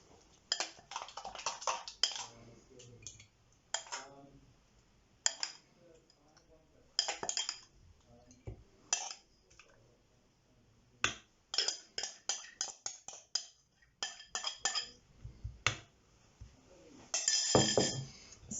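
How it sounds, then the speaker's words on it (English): Bircher muesli spooned from a mixing bowl into two cereal bowls: a run of close, bright clinks and scrapes of a spoon against the dishes, arriving in scattered bursts with short pauses between them. "I'm going to split this between my 2 cereal bowls."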